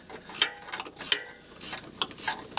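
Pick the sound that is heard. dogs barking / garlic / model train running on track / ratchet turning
ratchet turning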